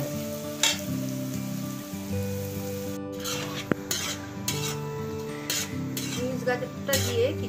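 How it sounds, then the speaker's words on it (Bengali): Chopped beans and carrots are stirred in a pan for Chinese veg fried rice, with a spatula scraping and clinking against the metal in irregular strokes over a soft sizzle, fairly close and quiet. "প্রথমে বিনস গাজরটা একটু ভেজে নেব।"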